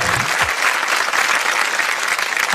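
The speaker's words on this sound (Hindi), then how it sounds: "एक बार जोरदार तालियां मनीष पॉल के लिए" A studio audience claps at a comedy show. The applause is loud, dense and steady throughout, with no voices over it.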